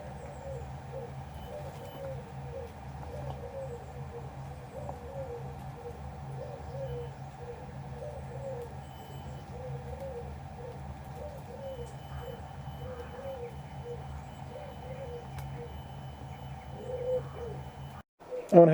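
A pigeon coos repeatedly in a garden, soft rhythmic hooting phrases repeating steadily at moderate distance over a low background hum, with a brief knock at the end.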